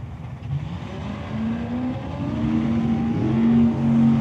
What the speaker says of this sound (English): Both drivers get away on the